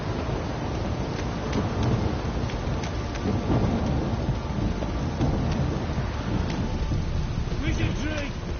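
A heavy thunderstorm downpour in The Witcher 3 game, dense loud rain hissing throughout with rumbling thunder and occasional crackling strikes, and a faint voice-like sound near the end.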